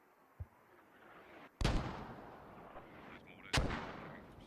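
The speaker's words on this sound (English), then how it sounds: "The first barrage of mortars kills British command." Mortar rounds from a barrage in the game Squad land with two heavy booming blasts a couple of seconds apart, each rolling off into a long rumble, preceded by a faint distant thump.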